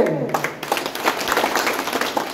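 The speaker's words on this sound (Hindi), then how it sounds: "जोरदार तालियों के साथ" Crowd applause at a welcome ceremony for Mangeram Tyagi in Chandsara village, Meerut district, with a brief voice at the start giving way to steady, dense clapping from a gathered audience.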